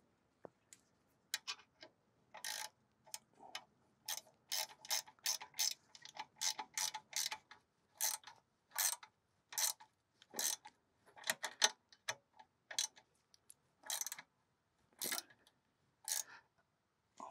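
Wrench ratcheting on brake caliper bolts of a 2012-2015 VW Passat TDI, heard as repeated bursts of sharp close clicks in short irregular runs with brief pauses between strokes.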